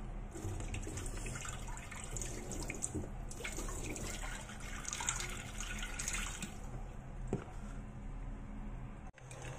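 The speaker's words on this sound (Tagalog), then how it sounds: "Tapon lang natin ang tubig." Water used to wash bitter gourd is poured out in a steady, splashing rush into a sink, continuous and fairly close for several seconds with no talking.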